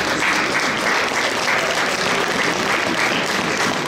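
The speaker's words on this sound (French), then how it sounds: "donc déjà, rien que pour ça, on peut vous applaudir." A crowd at a cosplay contest applauds the contestants with loud, continuous clapping that stays even and full throughout.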